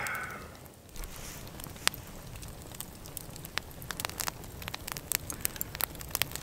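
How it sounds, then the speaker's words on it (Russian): A log campfire burns in a snowy forest at minus fifteen degrees, giving sharp scattered crackles and pops over a soft continuous rustle, close by and moderately loud. "Хотел бы показать наглядно работу костра"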